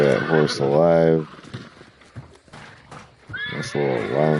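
Two loud, close horse whinnies with rising and falling pitch, one at the start and one at the end, separated by quieter clattering sounds, in the video game Hunt: Showdown 1896.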